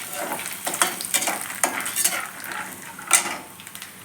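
Peanuts crackle softly in a pan while a metal spoon scrapes and clinks against it in repeated irregular strokes, close by and moderately quiet, with no voices.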